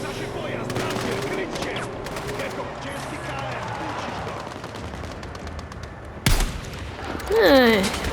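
Rapid bursts of Battlefield 6 gunfire rattle under a busy mix of effects, followed by a sharp impact and a rising electronic whine near the end.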